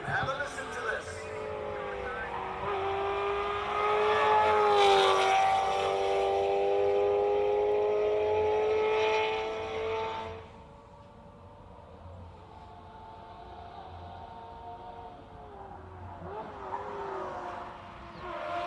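A classic race car at the Simola hillclimb roars past under a bridge, its engine note loud and sustained with rising and falling pitch, then a drop in revs as it changes down and fades.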